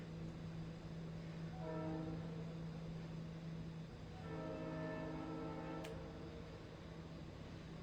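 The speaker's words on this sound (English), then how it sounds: "can hear my train." A train passes at a distance, its faint horn sounding in two tonal bursts over a steady low rumble, with no one talking.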